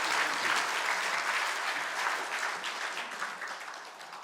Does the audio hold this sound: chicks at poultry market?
no